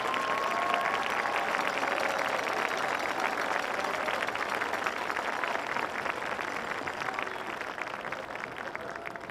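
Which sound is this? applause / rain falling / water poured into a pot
applause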